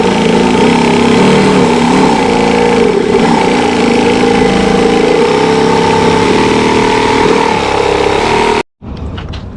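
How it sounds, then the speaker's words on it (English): A jigsaw cuts out part of a Sprinter van door panel with a loud, steady buzzing motor drone that runs unbroken for most of the clip, then stops abruptly near the end. "I'm going to grab the jigsaw and just cut that out very easily"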